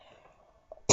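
A single sharp cough bursts out loud at the very end, after a faint murmur and a small throat noise, while someone works on a rubber-stamped peony card craft project with adhesive remover.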